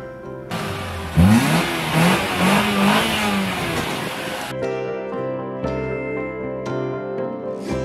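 A Mitsubishi Lancer engine revs hard, loud and close, rising and falling in pitch for several seconds before dropping back to a steadier tone as a voice talks over it.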